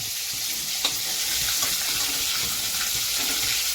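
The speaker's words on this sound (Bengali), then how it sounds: "আমাদের মাছ ভাজা হয়ে গেছে।" Fish pieces, the rui-type fish for a Bengali aar macher jhol, sizzle steadily in hot oil in a wok, a constant bright hiss with a couple of small pops, close and alone without talk.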